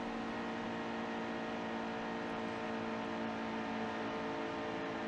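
A race car engine from the NASCAR Heat 2 video game, run hard during an Xfinity Series race at Las Vegas, holds a steady loud high-pitched whine and drone throughout, with no talk.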